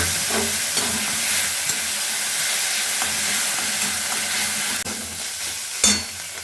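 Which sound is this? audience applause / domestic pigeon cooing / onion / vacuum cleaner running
onion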